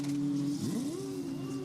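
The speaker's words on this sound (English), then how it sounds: "we're going to get Formula 2 cars back around this circuit" A Formula 2 race car heads out onto the Saudi Arabian street circuit in Jeddah, a faint distant engine note that rises in pitch as it accelerates under a steady background hum.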